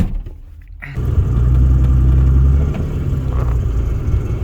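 A drift car pulls away and accelerates, its engine rising into a loud, sustained near rumble for a few seconds before easing slightly, with no talking.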